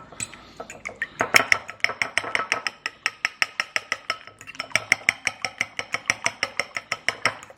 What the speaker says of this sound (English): I'm gonna whisk it or mix it up like they're scrambled eggs